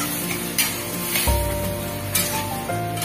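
Boiled peas go into hot oil for ghugni, a loud close sizzle with a sudden thump as they land, then scattered crackles, a spray-like hiss, and a metallic ring from the pot, without talking.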